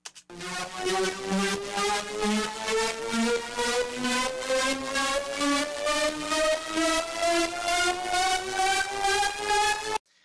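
A sustained sidechained synth tone pumps rhythmically in steady pulses, its pitch slowly gliding upward, loud and continuous with no voices.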